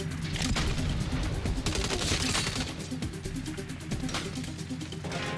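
Turret machine gun fire in the Saints Row video game, loud rapid bursts of shots hammering over a busy, rumbling game mix.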